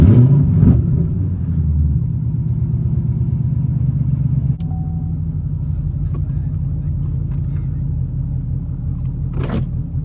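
Chevy SS fitted with a Kong X-Port supercharged LSA engine making 800-plus horsepower, a deep, loud rumbling engine drone heard from inside the car, pulsing steadily with a brief shift in tone midway.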